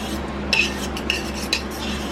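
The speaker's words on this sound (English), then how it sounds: "I'm going to stir this in here." A spoon stirs garlic and onions into marinara sauce in a pot, making a few sharp metallic clinks and scrapes at a gentle, uneven rhythm, close up and alone.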